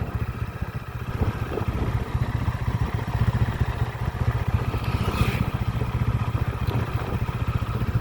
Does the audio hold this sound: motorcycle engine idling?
yes